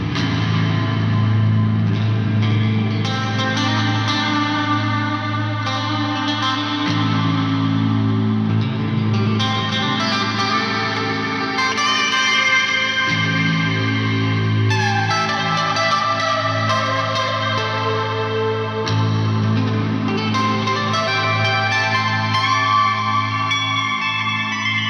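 A Solar T2.7LN+ electric guitar played with a clean tone, bright and articulate, with effects such as echo and chorus giving sustained, ringing chords and melodic lines throughout at steady loudness, no voices.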